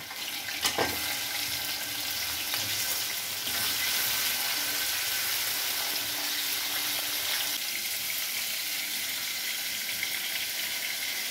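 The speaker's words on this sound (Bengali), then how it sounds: "এইবার লবণ হলুদ দিয়ে মেখে রাখা বাইন মাছও ভেজে নিতে হবে।" Baim fish (eel) coated in salt and turmeric frying in hot oil, a steady broadband sizzle throughout with a brief clatter near the start, close and fairly loud, no voices.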